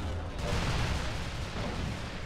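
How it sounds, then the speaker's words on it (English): A Firestorm rocket launcher fired in the video game Resistance 3, a dense, loud burst of booming, roaring blast noise that fills the whole short moment without letup. "and I think what Firestorm does is if I shoot a rocket"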